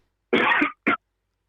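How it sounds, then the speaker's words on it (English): Two coughs from one person nearby, a longer rough burst followed by a short sharp one, then silence. "Are you coughing?"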